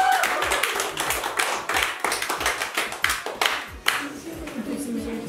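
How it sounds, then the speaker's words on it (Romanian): A small gathering of women claps at a birthday surprise, irregular individual hand claps close to the microphone with voices murmuring and calling out among them. "Așa, aplauze!"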